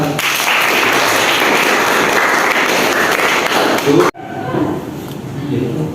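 Classroom applause from students, a loud continuous burst of clapping lasting about four seconds and stopping abruptly, followed by quieter room noise and faint voices.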